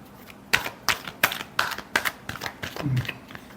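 A tarot deck being shuffled by hand for a Capricorn love reading, a short run of close, crisp card riffles and taps in an uneven rhythm.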